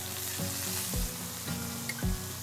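Dried scallops sear in a hot pan, giving a steady, close, crackling sizzle with a few soft low thumps spaced through it, and no voices.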